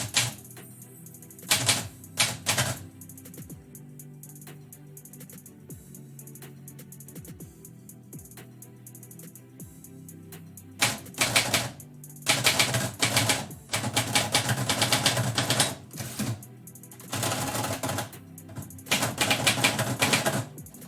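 A manual typewriter clacks through bursts of rapid keystrokes with pauses and carriage sounds between them, close and clear, as a poem is typed live.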